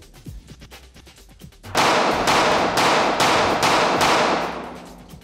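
Rapid bursts of handgun gunfire from a pistol fitted with a Crimson Trace laser, four or five loud cracks in quick succession after a quieter lead-in, ringing out close and alone.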